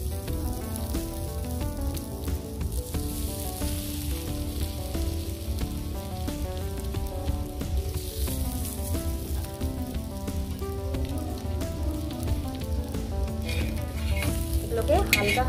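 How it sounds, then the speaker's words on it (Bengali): Potato pitha fries in butter in a pan, giving a dense, continuous sizzle with crackling pops throughout, steady and close, with a brief stir-like scrape near the end and no talking. "এটা বাটার দিয়ে ভাজবো আজকে"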